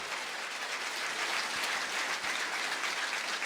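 A church congregation bursts into loud, dense applause that keeps up evenly throughout the short stretch, with no voices standing out.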